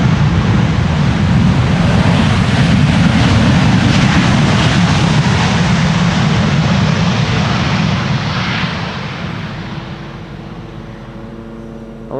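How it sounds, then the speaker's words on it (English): A Ryanair jet lands at Amsterdam Schiphol in gusty crosswind, its thrust reversers producing a loud, sustained roar that fades after several seconds into a lower whine. "Ryanair not disappointing in the use of the reversers."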